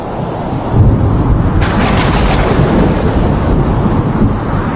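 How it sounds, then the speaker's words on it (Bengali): Loud, rolling thunder rumbles over a dense wash of heavy rain and wind, close and continuous. "ঝড় বৃষ্টির রাত, চারিদিক ঘুটঘুটে অন্ধকার।"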